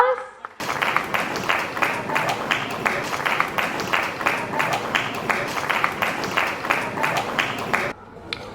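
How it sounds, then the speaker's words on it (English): Applause at a playschool annual function as a guest is honoured, a dense burst of clapping starting abruptly and running steadily for several seconds before cutting off, with some voices mixed in. "Please give a big round of applause."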